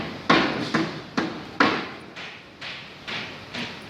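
Construction hammering nearby, eight sharp knocks at an uneven, roughly half-second rhythm, the first few strongest and later ones softer, with no talking.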